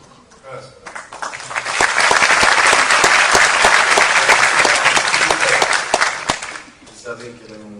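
An audience at a conference talk breaks into applause, the clapping swelling quickly into a dense, loud, sustained ovation that holds for several seconds before tapering off.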